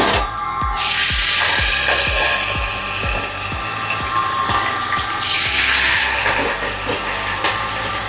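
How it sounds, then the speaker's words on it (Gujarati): Mustard seeds and chilies crackle in hot oil for tempering, with dense, close popping and spattering clicks and a sizzling hiss throughout. "તડકો તડતડ થાય."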